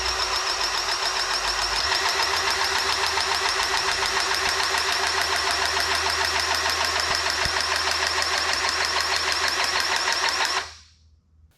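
A Makita cordless grease gun on a 2 amp hour battery runs as a steady, high buzzing motor whine, close and loud for about ten seconds before cutting off and spinning down.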